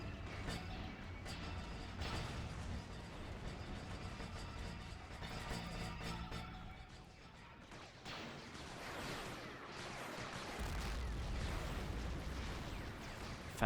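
Rapid autocannon gunfire from droid spider walkers in a Star Wars: Galaxy at War battle, a dense continuous rumble of shots and blasts, fairly faint and distant, swelling toward the end.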